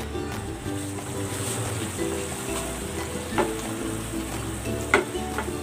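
A pot of water with salt and pepper, being readied for egg noodles and pechay, bubbles at a steady boil with busy sizzling texture and a few louder pops, close and continuous, with no one talking.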